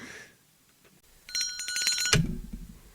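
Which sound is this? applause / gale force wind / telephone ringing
telephone ringing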